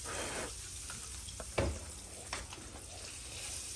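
Prawns fry in a hot pan with a continuous oily sizzle, punctuated by a few sharp pops and spatters, close by and fairly quiet, with no talk.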